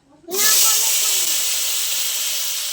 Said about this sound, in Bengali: একই মাছ ভাজার তেলে কলাগুলো ভেজে নেবো।